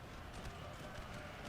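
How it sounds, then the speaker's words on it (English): Cavalry hooves from light horse moving across a Napoleon Total War battlefield, a dense, steady rumble of clopping hooves heard throughout the short stretch with no distinct pauses. "We got enemy light horse moving through."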